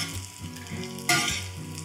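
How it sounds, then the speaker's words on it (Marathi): Edible gum (dink) frying in hot ghee on a griddle, a soft continuous sizzle and bubbling with a brief louder crackle burst midway, no voices. "तुमच्याकडे पूड नसेल तर तुम्ही डिंकाचे खडे घालून ते तळून घेतले तरी चालेल।"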